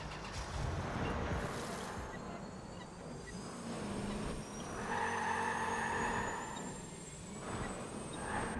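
Car engine in the Watch Dogs 2 video game, a steady droning hum with a rising high-pitched whine like a jet, continuous and moderately loud.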